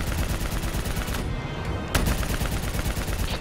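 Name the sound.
gunfire in the video game Call of Duty: Black Ops 3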